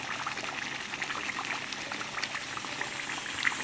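Whole mushrooms simmer in oily masala over a low flame, a close, continuous bubbling sizzle with no one speaking.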